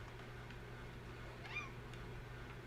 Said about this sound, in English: Cat in the house.